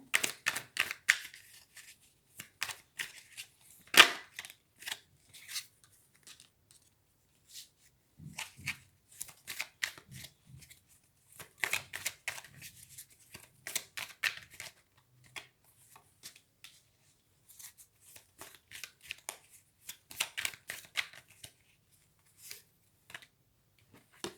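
Tarot cards shuffled by hand for a reading, close up, in repeated bursts of quick riffling and flicking separated by short pauses, with no talking.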